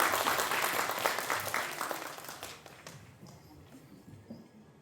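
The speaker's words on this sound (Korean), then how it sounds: "큰 박수로 맞아주시기 바랍니다." An audience at a talk concert claps in loud, dense applause that fades gradually to near quiet over a few seconds, with faint voices underneath.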